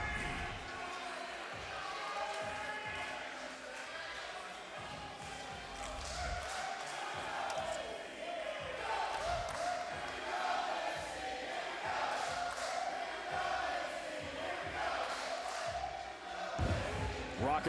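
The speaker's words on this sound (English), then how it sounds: "Rocking crowd." A bowling tournament crowd in the lanes cheers and roars loudly, with rising swells of voices and scattered sharp thuds throughout, and a commentator talks over the noise.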